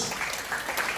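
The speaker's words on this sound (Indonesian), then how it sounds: "Tepuk tangan bagi Roh Kudus." A church congregation claps together during a sermon, a brief, fairly quiet burst of dense applause.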